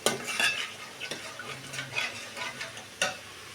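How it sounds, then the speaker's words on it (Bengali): Ginger-garlic spice paste stir-frying in a pan for a fish-head bhuna, with soft sizzling and scraping stirs, a few sharper utensil clinks, and a distinct clack near the end, close and moderately loud with no talking. "মশলার পেস্টটা দিয়ে আমি ভালোভাবে আদা রসুনের সাথে মিক্স করে নিব।"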